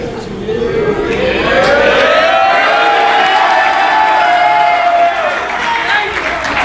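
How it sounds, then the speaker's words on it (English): A crowd applauds and cheers for a group of high school football seniors at a school event, a sustained loud wave of clapping with whoops and shouts that swells and then fades slightly. "You get that kind of applause."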